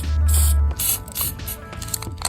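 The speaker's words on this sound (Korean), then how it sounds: "체인 루브액을 먼저 칫솔에다가 뿌려줍니다" Motorcycle chain lube aerosol sprayed onto a toothbrush in a close, hissing burst that gives way to softer rattling and handling noises.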